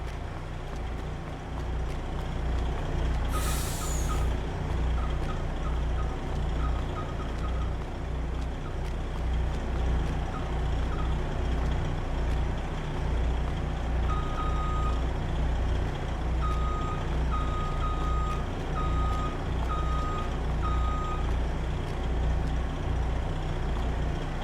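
Repeated reversing beeps from a truck in the Farming Simulator 22 video game, sounding as short evenly spaced tones in bursts over a steady, loud engine and machinery drone inside a big farm shed.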